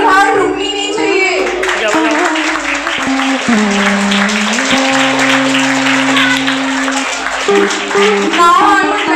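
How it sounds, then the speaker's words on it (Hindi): Sustained audience applause at a school academy event, dense clapping from a crowd of children and adults filling the whole stretch, with music playing steadily underneath. "ये तालियों की लहर रुकनी नहीं चाहिए"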